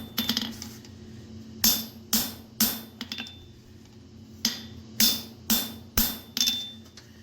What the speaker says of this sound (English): You hear that crack? Nice punch, Cody.